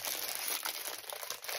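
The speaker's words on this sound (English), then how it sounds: "So let me get this out of the package." Crinkling, crumpling plastic packaging as a pack of Kingston Crafts 12 by 12 metallic foil cardstock sheets is opened, loud and close with continuous rustling and no talking.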